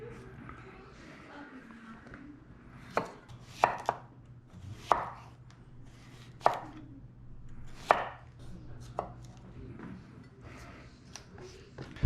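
A knife chops cucumber and julienned green onion on a board in scattered sharp taps, about half a dozen distinct hits over a low steady background hum, fairly faint.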